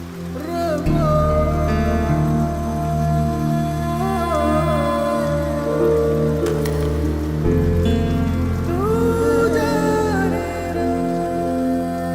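Steady rain falls in a dubbed film scene, a continuous hiss of drops heard beneath a prominent layer of melodic music throughout.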